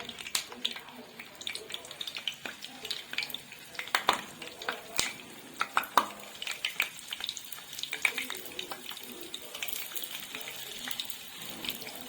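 Meatless rice kofta fry in a pan of hot oil, a continuous close crackle and sizzle with irregular sharp pops spread through the whole stretch at a moderate level.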